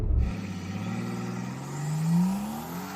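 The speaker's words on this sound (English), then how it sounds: "I'm going to brake boost it and launch it." A Brabus G800, a tuned Mercedes G-Class, launches off a brake boost: a loud engine roar that rises steadily in pitch as the vehicle accelerates hard, with no voices over it.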